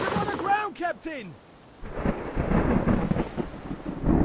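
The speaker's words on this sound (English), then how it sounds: "And we're in for a storm." Video game thunderstorm at sea near Poseidon Island, with a booming crack of thunder leading into steady rain and wind noise, preceded by short tonal chirps.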